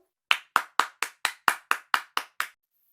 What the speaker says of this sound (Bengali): চলো আমরা আবার এই জন্য হাততালি দেই